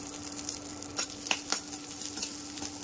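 Raisins frying in ghee for dhaniya panjiri, a soft, fairly quiet sizzle with occasional stirring scrapes and a few sharper ticks and pops.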